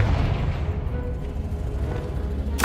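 A Confringo fire spell in the video game Hogwarts Legacy goes off with a deep, rumbling explosive boom that fills the whole moment, ending in a brief bright crackle.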